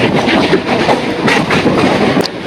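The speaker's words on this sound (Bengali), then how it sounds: "তো হাওড়া ব্রিজের নিচে দিয়ে আমার ট্রেন যাবে এই মুহূর্তে।" A Kolkata Chakra Rail circular train runs near Howrah Bridge, its loud, steady rumble and rhythmic clickety-clack of wheels filling the whole stretch with no pause.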